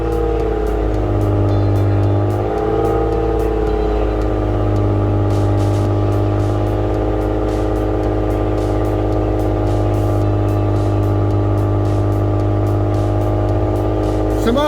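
A car engine held at about 3,000 rpm, a steady loud drone with a slight rise early on, then a constant, even hum sustained throughout.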